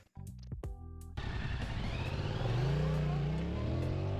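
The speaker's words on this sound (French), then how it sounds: "maintenant il est temps de démarrer un petit peu la moto et de voir ce que ça donne" A 2025 Yamaha MT-07 motorcycle engine cranks briefly, then catches and settles into a loud, steady idle with a slight rise in revs toward the end.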